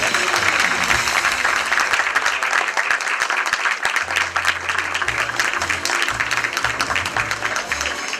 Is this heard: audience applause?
yes